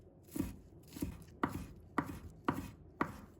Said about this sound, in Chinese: 把它切成小粒。